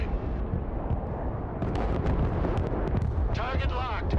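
Heavy artillery fire in the Broken Arrow war game, a rolling barrage of booming blasts and bursts mixed with game voices and radio chatter.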